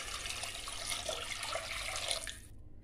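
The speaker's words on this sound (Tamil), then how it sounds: "அதுக்கு நான் வந்து 5 கப் தண்ணி விட்டுக்க போறேன்" Water is poured into a cooker pot for mint rice made with soaked plain rice. It gives a steady, quiet splashing rush that stops abruptly near the end.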